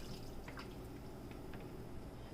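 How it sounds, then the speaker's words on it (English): Homemade coconut milk pours into a container, a faint quiet trickle with a few soft drips and splashes over a low steady background hiss. "Okay, I'm going to pour it out in this."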